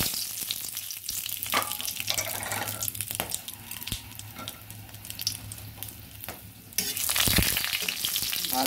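Whole garam masala (cloves, cinnamon, cardamom, mace, peppercorns) with dried chili and bay leaf frying in oil, a bright crackling sizzle broken by spatula scrapes and knocks, close up, swelling louder near the end.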